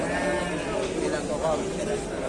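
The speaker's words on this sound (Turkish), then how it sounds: "Bir de boyu güzel bir keçi var." A goat bleats repeatedly in wavering cries, close by, over a noisy background with people talking at an outdoor livestock market in Suruç, Turkey.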